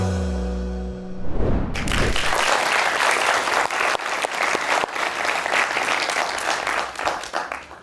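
A TV comedy show studio audience bursts into loud, sustained applause right after a musical jingle ends, the clapping continuing strongly throughout.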